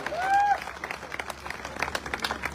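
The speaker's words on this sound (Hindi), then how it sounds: "अरे ताली बजा दो, बहुत मेहनत करके बनाया है" An audience claps at a product presentation event in Chandigarh, a faint scattered patter of applause after a brief whistle-like tone, fairly distant and thin.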